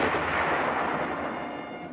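Heavy artillery and gunfire roar from a World War II battle at San Pietro, a dense, continuous rumble of blasts merging into one loud, sustained wall of noise that eases only slightly toward the end.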